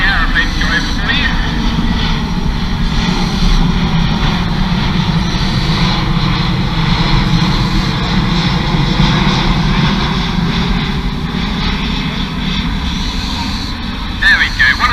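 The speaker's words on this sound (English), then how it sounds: "I'll wait for the aeroplane to go over for you." Aeroplane passing low overhead on the Newquay flight path at an owl sanctuary, a loud, continuous engine roar throughout, with a person talking under it.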